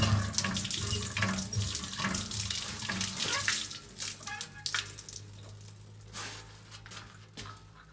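Cold water runs steadily from a washroom tap, a continuous close rushing splash over a low hum, with faint voices now and then.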